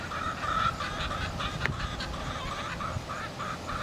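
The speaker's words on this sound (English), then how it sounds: "Look at them just being chickens, pecking at the ground." Rescued hens at a farm sanctuary mill about nearby, giving soft, steady clucks and murmurs with a few brief sharper calls over low rustling outdoor background.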